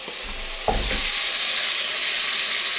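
Chicken pieces dropped into a hot pan with tomatoes for chicken pochero, a sharp burst of sizzling followed by steady frying hiss, close and continuous with no talk.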